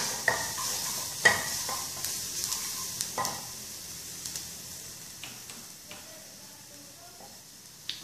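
Minced garlic and colorau seasoning fry in a pan with a soft, steady sizzle, punctuated by scattered clicks and taps of stirring, close and fairly quiet.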